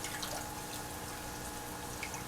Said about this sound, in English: Now your basil, you want to just go ahead and just rinse that off in water.